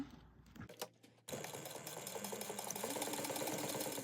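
Sewing machine stitching a box with an X on a crossbody bag, starting after a brief quiet pause and then running steadily with a continuous mechanical whir, close and fairly quiet.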